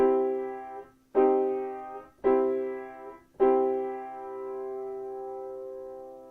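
Four sustained piano chords, major and minor triads, are struck one after another, each ringing out before the next, the last held longest.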